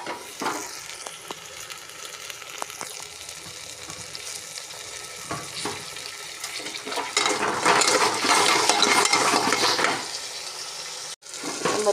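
Green chilli and tomato pieces sizzle and fry steadily in an oily pan, a close, continuous crackle that swells louder partway through as the pieces are stirred.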